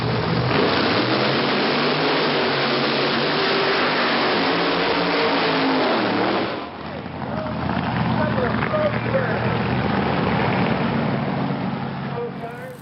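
Two funny cars, a Vega and a Mustang, rev loudly at a drag racing show in Canada, a dense continuous engine roar that shifts pitch midway and keeps going with crowd or announcer noise mixed in.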